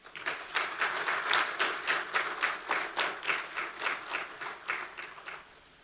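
A gala crowd at Sandals Grande in St. Lucia breaks into sustained applause, many hands clapping together in a dense, steady wash that swells and then slowly tapers, heard at moderate distance.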